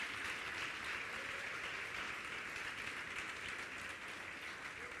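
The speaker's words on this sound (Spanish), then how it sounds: "Denle un aplauso al Señor fuerte," Dense, steady applause from a church congregation fills the room continuously without a break, a broad wash of clapping with no voices standing out.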